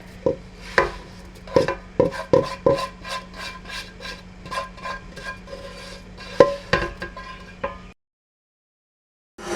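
Love cake batter with roasted semolina and butter being beaten in a bowl, heard as a steady run of sharp spoon knocks and scrapes, close and fairly loud, stopping abruptly near the end.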